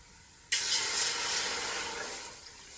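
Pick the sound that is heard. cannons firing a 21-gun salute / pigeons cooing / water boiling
water boiling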